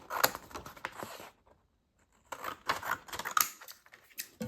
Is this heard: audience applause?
no